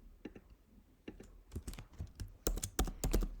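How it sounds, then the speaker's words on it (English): Typing on a computer keyboard comes through as quick irregular clusters of sharp clicks, sparse at first and then thickening into faster, louder bursts, heard close with no one talking. "today there will be a lot of typing"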